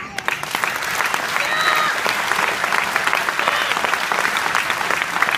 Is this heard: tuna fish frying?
no